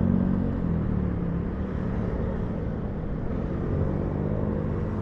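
A motorcycle nicknamed Bisri rides along a road on a touring trip between Purwakarta and Jakarta, its steady engine drone and wind rumble filling the sound continuously at a constant, fairly loud level.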